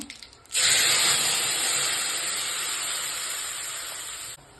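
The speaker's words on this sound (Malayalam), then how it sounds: "വെളിച്ചെണ്ണ ചൂടായി ഞാൻ കരിവേപ്പില ഇട്ട് കൊടുക്കുന്നുണ്ട്." Curry leaves drop into hot coconut oil with a sudden sharp sizzle, a loud, bright hiss that holds steady, eases slightly, then cuts off after about four seconds.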